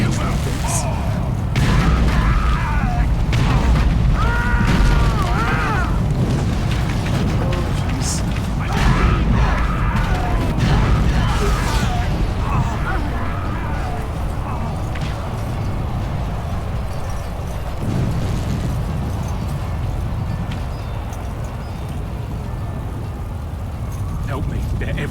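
Heavy booms and crashing impacts from siege weapons in the fantasy game Dragon Age: Origins, loud and continuous at first, then easing into a dense rumbling battle bed with voices talking over it.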